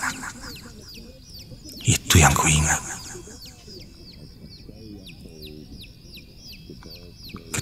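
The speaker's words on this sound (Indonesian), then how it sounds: "aku pun tahu suara anak ayam pertanda adanya kuntilanak" Chicks cheep in rapid, high repeated peeps as a sound effect in an Indonesian horror radio drama, running throughout under a spoken voice, with a loud burst of noise around the two-second mark.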